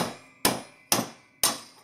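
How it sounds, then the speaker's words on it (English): A hammer whacking a spike into the solid copper core of an aluminum heat sink: three hard, evenly spaced metallic blows, each ringing briefly and fading before the next, close and loud with no speech. "Get your hammer out and then whack."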